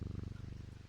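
A video game cat purrs steadily, with a rapid regular pulsing rumble that is close and fairly soft, with no other sounds alongside it.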